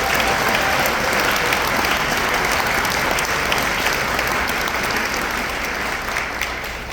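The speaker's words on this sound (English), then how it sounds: "So give yourselves a round of applause, please." Steady, dense audience applause at an honor band concert, a full crowd clapping loudly and evenly for the parents, holding strong for about seven seconds before easing slightly at the end.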